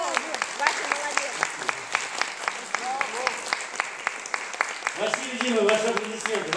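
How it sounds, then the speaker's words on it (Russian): An audience at a composer's evening in Moscow claps in a steady rhythm, sharp regular claps, while voices talk and call out over it, growing busier toward the end. "Василий Дима, ваши аплодисменты."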